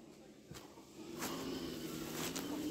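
An off-road vehicle on a trial challenge course, its engine a steady low rumble that grows slightly louder partway through, with faint scattered knocks and clatter over the motor.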